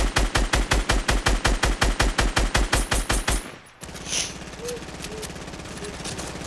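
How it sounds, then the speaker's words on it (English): Rapid, evenly spaced bursts of automatic gunfire in a video game rattle loudly for about three seconds, then stop, leaving softer game ambience and faint distant effects. "Kylan, shoot him."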